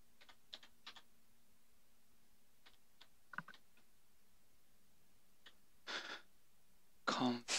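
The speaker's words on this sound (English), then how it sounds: "So we'll type this first trigger." Sparse, faint keystrokes tap on a computer keyboard in small irregular clusters, ending in a louder burst of clattering keys, with a faint low hum beneath.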